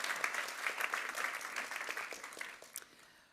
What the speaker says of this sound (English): Can I get a big round of applause for Liz Kamei?